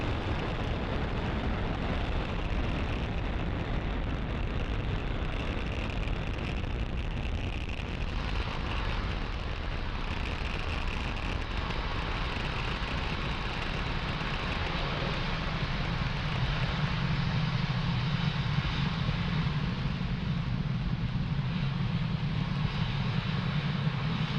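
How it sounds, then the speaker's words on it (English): A SpaceX Falcon 9 rocket carrying Starlink satellites and a Sherpa-LTC-2 space tug roars steadily during ascent after liftoff, a continuous loud broadband rumble that shifts slightly in tone over about twenty-four seconds, with no voices. "You are watching Falcon 9 accelerate Spaceflight's Sherpa-LTC-2 and our Starlink satellites out into space."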